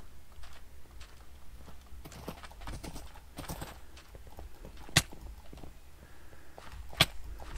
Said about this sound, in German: Ein Pferd unterwegs.